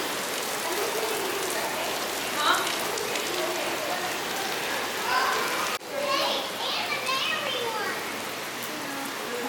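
Steady rain falls on an outdoor surface as a constant wash, with children playing and calling nearby and a brief pause in the middle.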